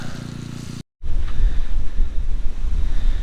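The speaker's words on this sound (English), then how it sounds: "Just thought it was calming down and started blowing a gale" A gale blows across a campsite beside the Murray River at Moorook Game Reserve, South Australia. A loud, broad rushing roar buffets the microphone, breaks off for a brief silent moment, then returns in strong, gusty surges.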